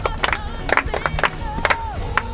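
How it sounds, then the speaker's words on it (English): A small group of kids on a camp tour at a car plant clap briefly and unevenly, scattered claps under a murmur of voices, with a high tone gliding through the middle. "Clap for him."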